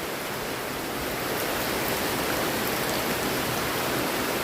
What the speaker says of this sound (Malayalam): അതിൽക്കൂടെ വെള്ളം ഒലിക്കണുണ്ട്.